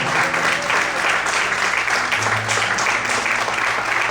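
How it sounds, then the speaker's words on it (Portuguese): A church congregation at a morning service claps loudly and steadily, a thick, continuous wall of applause with a low hum and faint voices beneath it. "Você pode aplaudir bem forte a Ele."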